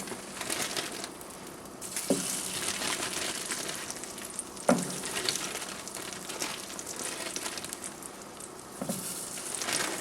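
English muffins and bologna frying in a pan, an uneven sizzle with crackling bursts and a few sharp pops or scraping knocks, close and moderately loud with no talking.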